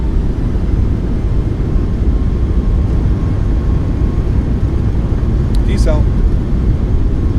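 Boeing 737 MAX thrust reversers roaring after landing in Microsoft Flight Simulator, a loud steady low rumble that fills the whole stretch, with a voice briefly speaking over it.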